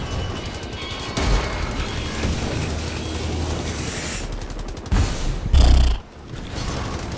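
Dense bursts of gunfire in the video game Wolfenstein: The New Order crackle almost continuously, with a few louder booming blasts near the end.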